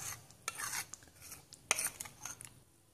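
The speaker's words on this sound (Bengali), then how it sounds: "গুলিয়ে নিচ্ছি আমি চামচ" A spoon stirs a thick paste of ground cashews and poppy seeds with coriander and cumin powder, giving soft scraping and rubbing strokes in irregular bursts with a couple of sharper clinks, close and fairly quiet.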